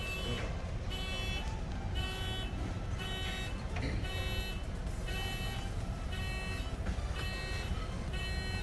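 An oil discharge monitoring equipment alarm on a tanker sounds for an oil content over-limit condition, a loud continuous electronic beeping that repeats in a steady rhythm.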